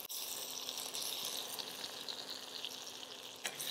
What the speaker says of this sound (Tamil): தக்காளி சேர்த்து வதக்கிறோம்.